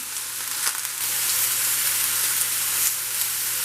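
Steady, strong sizzling of peppers frying in a hot pan, a dense continuous crackle with occasional louder pops, close and with no talking.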